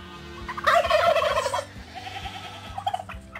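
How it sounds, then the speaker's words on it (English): Loud clucking and gobbling from chickens close by outdoors, a burst of calls followed by quieter scattered clucks over a low background hum. "we got a few chickens that are on the outside right here"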